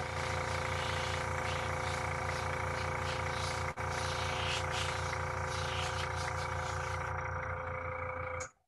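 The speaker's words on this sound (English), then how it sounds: "Give my air compressor a second" Air compressor for an airbrush running continuously with a steady droning hum and hiss, close and constant before cutting off at the end.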